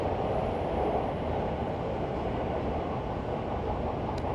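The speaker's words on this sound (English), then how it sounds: "The trains are going by here so often." Trains on the Yamanote and Keihin-Tohoku lines run past near Ueno Station in Tokyo, a steady loud rumble of rolling rail cars that fills the whole stretch.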